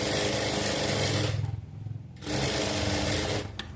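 A sewing machine runs a quarter-inch seam through folded fabric, whirring steadily and close by, pausing briefly in the middle and then resuming its rapid stitching. No one speaks.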